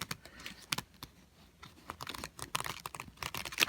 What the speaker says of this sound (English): Can I get a riffle shuffle?